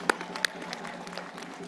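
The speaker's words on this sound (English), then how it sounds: "A moment of applause once more." Light, scattered applause from a graduation ceremony audience, a few sharp louder claps standing out over a thin patter of clapping from the crowd.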